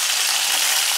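Onion frying in a pan for a cauliflower gravy, a bright, loud, continuous sizzle heard up close for a brief moment, with no voices.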